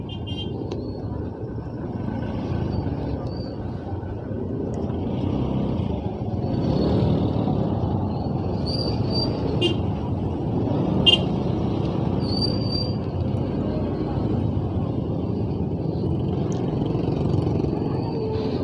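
Road traffic on a street in the Philippines rumbles steadily with passing cars and a bus, a brief air-brake hiss and distant horn chirps rising above the continuous engine noise.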